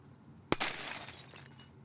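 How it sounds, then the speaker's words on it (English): A glass pane smashed for a Halo 3 Warthog explosion sound effect gives one sharp bright crash, then a spray of tinkling shards that decays over about a second. "Here's our glass being smashed."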